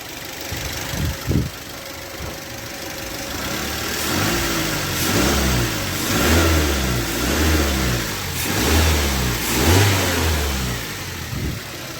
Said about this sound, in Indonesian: Ini posisi mesin masih hidup ya.